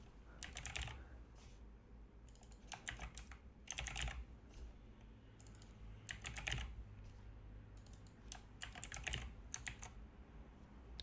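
Fingers typing on a computer keyboard, with quick clusters of crisp key clicks separated by short pauses, close and quiet against a low background hum.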